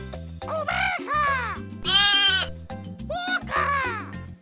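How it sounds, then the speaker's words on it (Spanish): Several wavering, nasal sheep bleats from a children's animal-learning cartoon repeat over a bouncy musical backing, with one higher, brighter bleat in the middle. "¡Oveja!"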